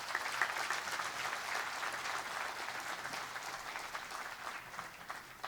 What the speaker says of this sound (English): I therefore crave the indulgence of the audience to give our spouses a rousing round of applause